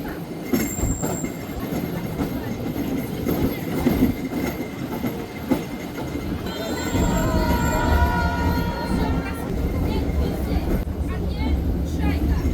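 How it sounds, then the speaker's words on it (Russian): A tram rolls along its tracks with a steady rumble, rail clatter and a rising metallic wheel squeal partway through, while people talk over it. "Здесь есть трамвай, и мы на нем прокатимся."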